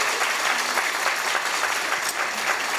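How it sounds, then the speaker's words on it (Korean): Loud, continuous applause fills the room as an audience claps for a political speaker, a thick unbroken wash of hands with no voices standing out. "박수합니다."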